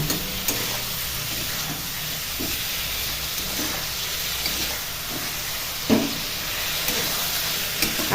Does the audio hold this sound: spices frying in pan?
yes